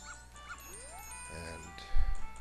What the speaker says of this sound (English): Stay away, dog.